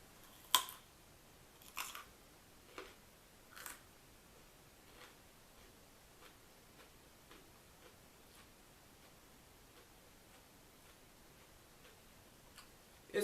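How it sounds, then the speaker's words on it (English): Crisp crunching bites into a raw, pliable orange vegetable: a few sharp, loud crunches near the start, then fainter scattered chewing clicks fading out, alone with no voice. "It's got a good crunch to it."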